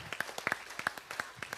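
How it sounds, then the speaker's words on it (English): Sparse, fairly quiet clapping from a small congregation at a Friday night Shabbat service, individual sharp claps in an uneven rhythm rather than a full ovation. "Give them a big round of applause for the commitment to their own life and recovery."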